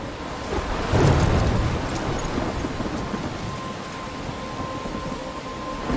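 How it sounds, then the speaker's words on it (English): A game thunderstorm in Life Is Strange: a crack of thunder booms near the one-second mark over a dense, steady wash of heavy rain that continues unbroken to the end. "I'm trapped in a storm?"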